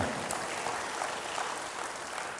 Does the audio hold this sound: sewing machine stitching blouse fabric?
no